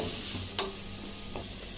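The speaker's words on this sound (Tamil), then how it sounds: "நல்லா எல்லாத்தோடையும் கலந்து விடுங்க." Steady sizzling of vegetables in a frying pan with a couple of soft stirring scrapes, close and fairly quiet, no voices.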